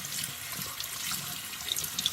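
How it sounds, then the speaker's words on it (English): Warm tap water runs steadily from a faucet over jewelry being rinsed at a sink, a close, continuous splashing hiss with small clicks near the end and no voices. "just rinse it under some warm water"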